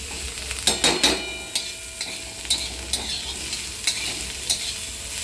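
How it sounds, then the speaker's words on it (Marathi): Onion and green chili sizzle in a pan for an omelette, a steady frying hiss punctuated by repeated sharp spatula scrapes and clacks every half second or so, close by and without talk. "कांदा आणि मिरची आपण आता भाजत आहोत"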